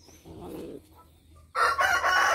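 A fighting rooster crows once, a loud, close, harsh call that bursts in after a few quieter low sounds and carries on strongly to the end.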